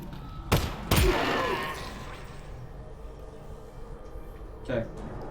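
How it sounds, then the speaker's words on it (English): Gunshots in the VR game Half-Life: Alyx, played on a Valve Index: two sharp, loud blasts close together early on, then a fainter shot near the end over low background game ambience. "it looks like I'm actually shooting"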